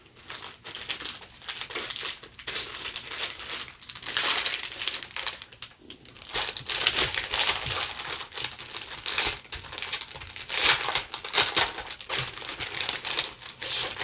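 Paper envelopes being handled and swapped in a cash-envelope binder, with steady crinkling and rustling that rises and falls in bursts, close and fairly loud, with a brief quiet gap partway through.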